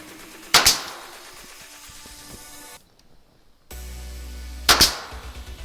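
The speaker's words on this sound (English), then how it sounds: "We're gonna get our nail gun, and we're just gonna do a couple shots here" Two sharp, loud nail gun shots, several seconds apart and each with a brief hiss, fasten a wall-mounted handrail against quiet room noise.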